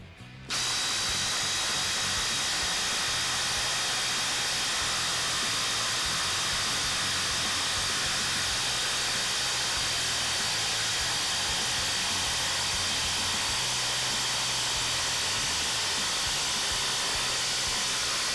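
DeWalt Atomic and DeWalt 887 impact drivers driving lag screws, a loud, continuous, dense mechanical whir and hiss that runs close and unbroken with no talking.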